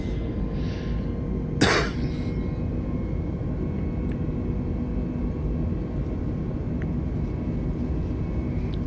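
Airbus A320 engines in Microsoft Flight Simulator 2020 spool up for the takeoff roll, a steady, loud, broad roar that holds throughout, with one brief cough near the start.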